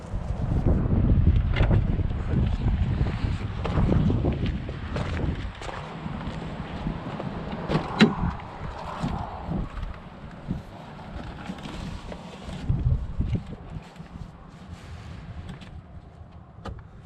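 Wind blowing outdoors buffets the microphone, a low rumbling gust strongest at first and easing off, with scattered knocks and faint background noise.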